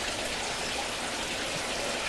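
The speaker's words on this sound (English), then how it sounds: "you hear the waterfall" Water pours steadily from a backyard koi pond waterfall among rocks, a constant, even splashing rush with no voices.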